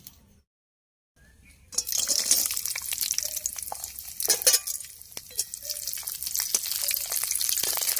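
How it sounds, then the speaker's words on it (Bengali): Cashews and raisins fry in hot white oil for vegetable fried rice. A brief quiet opening gives way to a steady close sizzle, with occasional scraping and clinks from stirring in the pan. "কাজু কিশমিশটা আগে ভেজে নিচ্ছি।"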